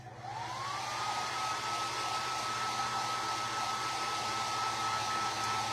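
A heat tool blows a constant, loud whirring hiss while drying craft paint on a distressed wooden project, holding steady from start to finish with no voices.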